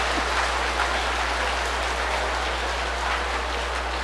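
An audience at a Buddhist monk's morning dharma talk claps steadily together, a dense, even wash of applause lasting the whole stretch with a low hum beneath it and no speech.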